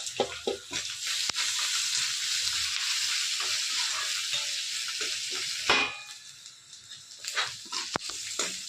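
Pepper, ginger and cumin tempering in hot oil for rava idli, a steady close sizzle and crackle throughout with a few sharp pops and a brief stir, easing slightly near the end.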